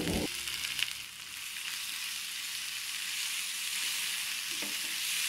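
Masala gravy for Kerala fish pickle, seasoned with pickle powder, fries in oil with a dense, continuous hiss and crackle that stays even throughout, with a few brief clatters at the start and near the end.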